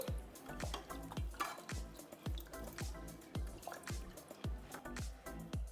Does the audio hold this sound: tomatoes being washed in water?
yes